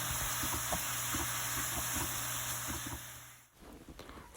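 Chopped red onion cooks with browning ground meat in a pan, giving a steady close sizzle and hiss with faint stirring scrapes, then dropping away near the end.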